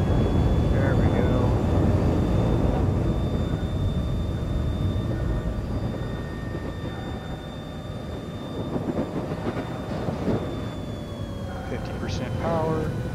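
An aircraft engine held at full throttle in a flight simulator game gives a steady, droning roar with a constant high whine running underneath, while someone talks over it.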